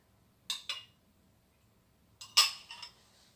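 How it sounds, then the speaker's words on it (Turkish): Mango being spooned into a glass for a yogurt fruit parfait, two quiet pairs of spoon-on-glass clinks and taps separated by a short silence, close and alone. "Önce altına mangomuzu koyalım. Birer kaşık."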